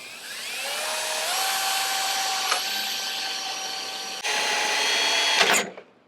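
A power drill whines steadily while drilling holes to mount rock sliders on a Toyota Tacoma, pitch stepping up as it bites, with a brief pause and restart before spinning down at the end.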